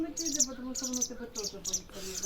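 A wagtail gives repeated high chirping calls to its chick, several short notes in an irregular series, close and moderately faint, with faint low sounds beneath.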